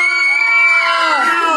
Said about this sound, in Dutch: Fans, gedraag je, niet zo gillen.